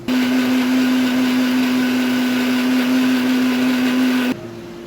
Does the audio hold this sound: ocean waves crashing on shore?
no